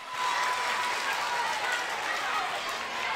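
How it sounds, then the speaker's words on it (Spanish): Strong, continuous audience applause for a fifth-grade group at a school music recital, dense clapping from a large crowd with faint voices mixed in. "Otro fuerte aplauso para el grado quinto de la sede Pedro Claver."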